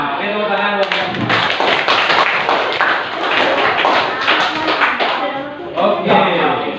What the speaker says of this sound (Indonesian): tepuk tangan buat mereka semua